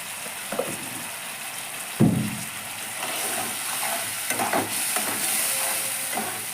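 Masala for an egg and pointed gourd curry fries in a pan, giving a continuous soft sizzle broken by occasional sharper scraping stir sounds, close by with no talking.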